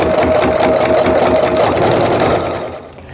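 A sewing machine stitches a quilted Christmas tree mug rug in a fast, steady whirring run that slows and fades at the end, loud and close with no talking.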